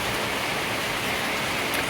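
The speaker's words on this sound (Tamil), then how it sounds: "நம்ம ஊரில் ஃபுல்லாக மழை பெய்யுது." Heavy village downpour, a dense, even hiss of rain falling steadily and close, with no pauses and no voices.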